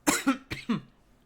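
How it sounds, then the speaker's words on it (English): Four quick, harsh coughs in a short burst, close and fairly quiet, with no speech around them. "sorry, I have a cough"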